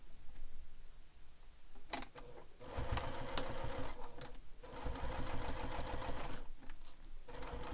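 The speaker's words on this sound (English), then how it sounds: "we're going to top stitch along this straight edge here" A sewing machine top stitches along a folded straight edge of a fabric wallet, running in steady rapid bursts close by, with a brief pause near the start and a short break later, no voices over it.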